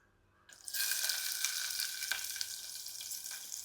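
Sudden loud sizzle as shallots and green chilies hit hot oil in a clay pot, then a steady crackling fry continuing close by without any talking.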